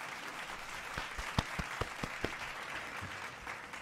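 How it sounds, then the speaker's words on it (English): A short burst of applause from a crowd, steady clapping with a few sharper claps standing out, fairly faint and distant. "I always got to remember the applause."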